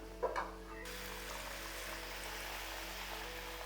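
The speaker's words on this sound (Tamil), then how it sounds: "இப்போது இது வேகிறதுக்கு தேவையான தண்ணியை விட்டுக்கலாம்." Water pours steadily into a cooking pan with drumsticks (moringa pods) for boiling, a soft, continuous rushing, preceded by a couple of brief clinks; quiet and close.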